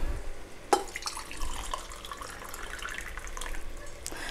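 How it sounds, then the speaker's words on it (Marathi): Hot water pours into a pot of rice for prawn rice, a continuous close splashing and gurgling with a brief clink at the start and another near the end. "तर हे बघा हे मी पाणी घालते"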